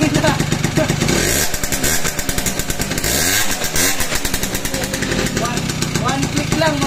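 A motorcycle engine runs after its carburetor has been cleaned and tuned, loud and close with a rapid, chattering rhythm and several quick revs that rise and fall, while people talk over it.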